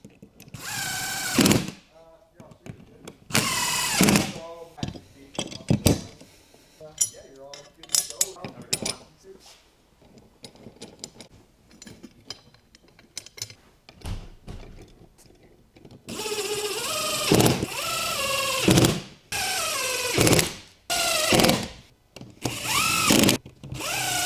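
A power tool snugs down nuts under base loops on Polaris snowmobile adapter plates, giving several short, loud buzzing bursts close by, with metallic clinks and handling noise between them and a stretch of quieter work in the middle; someone talks intermittently.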